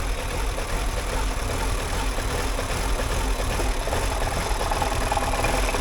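A car engine runs rough and struggles to hold an idle, a steady uneven rumble with knocking irregularity throughout, fairly loud and close, with no talk over it.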